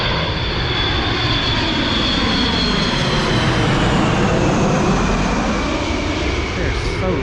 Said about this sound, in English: C130, C650. That is a 4-engine something. That's a beast of an Air Force.